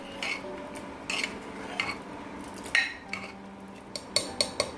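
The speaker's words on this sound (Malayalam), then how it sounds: "ഇളക്കി കൊടുക്കാം" Onion sambar being stirred in a pot, with a spoon scraping and clinking against the metal in scattered light knocks and taps, fairly close and alone without talk.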